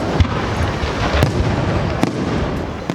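Firecrackers go off at a Benidorm fiesta in the square by San Jaime Church, with several sharp bangs over a dense, crackling wash of noise, loud and close.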